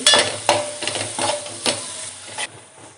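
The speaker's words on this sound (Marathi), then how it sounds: "आपल्याला हे सगळं पुन्हा एकदा मिक्स करून घ्यायचं आहे" Dry fish with coriander powder and turmeric is stirred in a pan, a spoon scraping and clinking in several close, uneven strokes with a light sizzle underneath.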